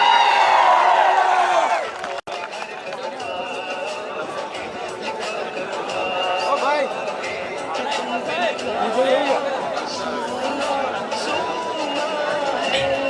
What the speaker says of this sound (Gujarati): જોરદાર તાળીઓથી સ્વાગત